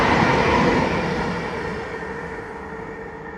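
A ScotRail passenger train rolls past Magiscoft with a broad, steady rumble that slowly fades as it moves away.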